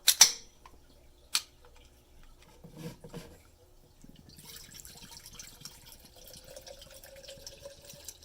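White Claw hard seltzer poured into a glass after a couple of sharp opening clicks, the close, steady fizzing pour running through the second half without any talk.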